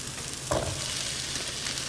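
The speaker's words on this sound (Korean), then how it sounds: "자, 양송이도 같이 볶아요" Button mushrooms and potatoes sauté in a pan, a dense steady sizzle with a brief louder scrape as the food is stirred, close and uninterrupted.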